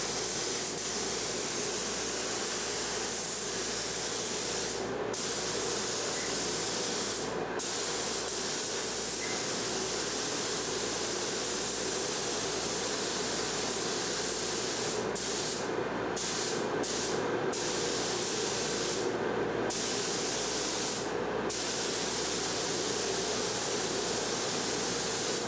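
A spray gun lays a finish coat of EkoPoly paint onto an aircraft wing, a steady, even hiss that runs continuously, broken now and then by brief louder bursts.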